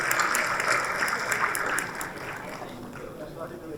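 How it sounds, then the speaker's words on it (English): An audience at an Annual General Meeting of the ICAI Muscat Chapter applauds the election committee. The dense clapping is loud at first and then tapers off slightly, with speech mixed in. "let's give a big round of applause to the election committee"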